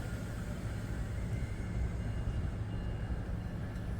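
An Exo commuter train pulls out of Montreal Central Station in winter, a faint, steady low rumble of rolling rail cars heard from a distance with no talk.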